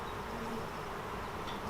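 A mass of honeybees covering a hive frame hums continuously, a thick, even buzzing heard up close and alone throughout.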